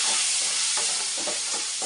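Tomatoes frying with onions in a pan for brinjal and lentil sambar, a loud continuous hissing sizzle with a few soft stirring scrapes underneath and no talking.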